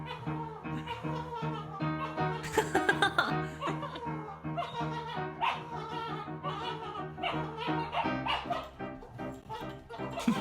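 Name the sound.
dogs fighting over toys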